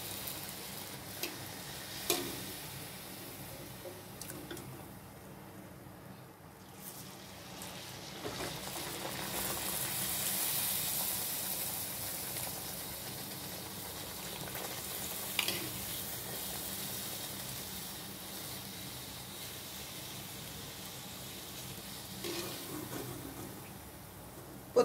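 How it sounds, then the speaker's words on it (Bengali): Steady soft sizzle of luchi, puffed flatbread, frying in hot oil, a continuous low crackle with faint ticks, quiet and close, no talking. "প্রত্যেকটা লুচি এভাবে আমি ভেজে নিচ্ছি।"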